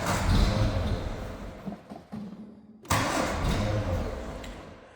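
A 1954 MG TF convertible engine cranks with its choke pulled, then dips into a brief lull before catching and roaring to a close, loud running that slowly settles.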